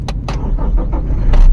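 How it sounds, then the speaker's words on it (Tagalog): A car key is inserted and turned in the ignition slot, a few sharp metallic clicks and jangles over a low rumble, close and brief. "Ito, twist lang natin siya hanggang umilaw yung harapan na dashboard."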